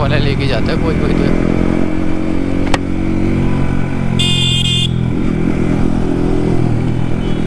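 A Yamaha MT-15 motorcycle fitted with an Akrapovic carbon exhaust and no dB killer idles and revs close by, a steady loud engine drone with a brief high-pitched horn-like tone midway and people talking in the background.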